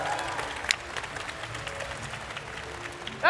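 A faint, thin round of applause from a small group during a tabletop role-playing session, scattered claps carrying on at a low level for several seconds.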